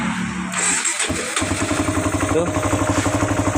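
An older Honda CBR 150 motorcycle with a hard-to-start fault is cranked on its starter using a screwdriver. It catches after a short silence and then idles with an even, throbbing beat, close by, while someone briefly speaks.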